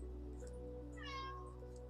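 A cat gives a single drawn-out meow, faint and close, over a steady low electrical hum.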